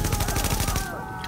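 Rapid automatic gunfire in The Division, a loud rhythmic burst of repeated shots that stops abruptly and leaves a lingering tonal hum and faint echoes.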